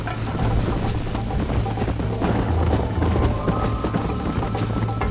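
Galloping horse hooves in the Red Dead Redemption video game, a fast, steady clip-clop close up and loud, running continuously under a dense mix of game sound with no talk.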